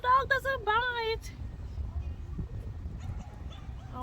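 A dog at a park lets out high, wavering whimpers and yips in the first second, then quieter rustling and outdoor background follow, with a person talking close by.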